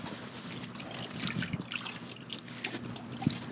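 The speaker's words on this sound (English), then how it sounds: "Got seawater there. I'm rinsing everything off in." Seawater trickles and splashes as stingray meat is rinsed off during cleaning on a North Carolina saltwater fishing trip, with irregular small drips and pours close by, alone and fairly quiet.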